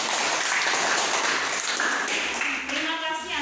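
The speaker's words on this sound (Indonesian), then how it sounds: "Tepuk tangan." A fifth-grade class applauds in a classroom after a heat-conduction science demonstration, a steady dense patter of many small hands clapping at once that fades slightly toward the end.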